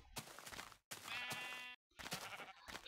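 Sheep bleat in Minecraft in two or three separate calls, the middle one long and wavering, each clear and close with brief silences between them.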